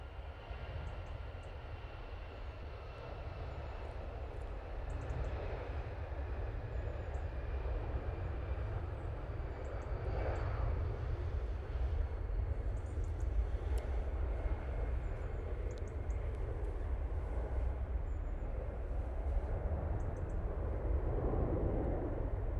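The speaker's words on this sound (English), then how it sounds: "I'm going to say 320 now on the roll," An Airbus A320 rolls for takeoff at Manchester Airport, bound for Dublin, giving a steady, far-off broadband engine roar with deep low rumble that swells slightly over about twenty seconds, with no talk.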